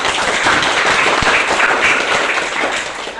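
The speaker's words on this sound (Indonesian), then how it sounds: "Tepuk tangan dulu" A classroom of students claps together in a dense burst of applause, close and loud, with one sharp thump partway through and the clapping easing slightly toward the end.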